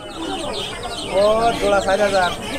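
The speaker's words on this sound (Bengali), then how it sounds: "এই সাইডে দেখেন বেশ বড় বড় মুরগি আছে, টার্কি মুরগি" Turkeys cluck and warble close by in a short noisy burst at a poultry and pigeon market, with market bustle in the background.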